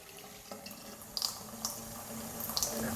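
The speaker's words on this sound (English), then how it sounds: "leave a very slow stream of running water through any plumbing fixture on the top level of his house" A very slow stream of running water from a plumbing fixture on a home's top level trickles and splashes steadily into a sink, with a few brighter drips and spatters rising near the end.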